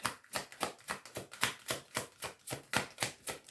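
A deck of tarot cards is shuffled close by in a quick, even rhythm, each soft riffling swish repeating about three times a second.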